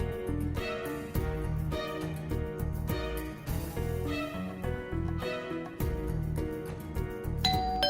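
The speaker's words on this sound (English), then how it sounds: "We have fixed the doorbell, AJ." A household doorbell rings with a chain of melodic chiming tones that repeat in phrases over several seconds, bright and fairly close, with no talking over it.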